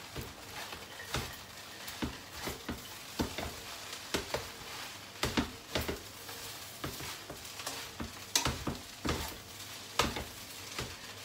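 Vermicelli noodles and vegetables are stir-fried in a small, crowded wok, with a steady sizzle broken by frequent sharp scraping and clattering stirs, close and alone.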